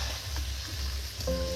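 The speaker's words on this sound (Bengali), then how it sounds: "এর সঙ্গে এবার বাদাম ভাজাও" Peanuts frying in a pan with chana dal for crunchy dalmut, a steady close sizzle with light stirring scrapes throughout and no talk.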